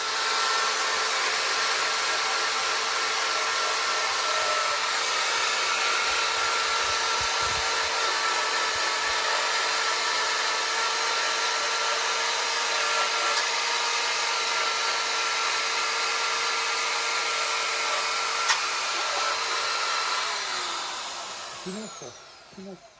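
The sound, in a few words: sanding a table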